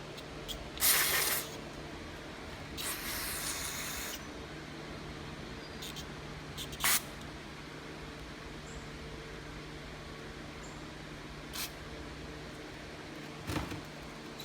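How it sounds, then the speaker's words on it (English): Carburetor cleaner for a Briggs & Stratton style carburetor off an MTD Yard Machine is sprayed in a few short hissing bursts, one longer blast early then brief puffs, separated by quiet. "spray out all the holes"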